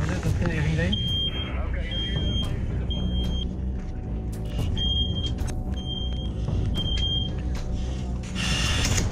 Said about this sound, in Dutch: Op de zolderverdieping werkt het snerpende gepiep van de rookmelder op de zenuwen.